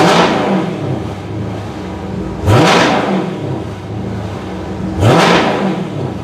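A loud, raspy 392 Hemi V8 in a Dodge Charger Daytona with a JBA catless mid pipe revs hard three times at a steady pace, each blip rising sharply before dropping back to a rumbling idle.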